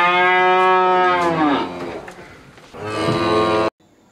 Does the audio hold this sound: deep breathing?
no